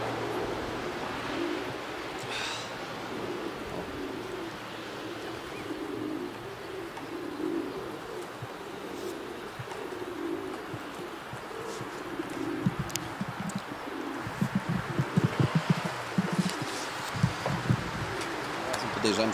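Pigeons coo in low, repeated rolling calls outside a racing loft in winter, fairly close and steady, with rustling, wing flaps and someone speaking now and then.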